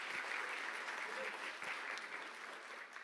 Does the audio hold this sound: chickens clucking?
no